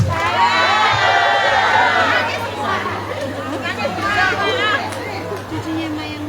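An audience cheers and shouts at a stage performance by migrant workers in Hong Kong, a loud, rising burst of crowd noise with excited voices and chatter that fades toward the end.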